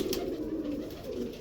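A Jonsre breed pigeon cooing close by, a low throaty rolling coo that swells and repeats steadily across the moment with no voices.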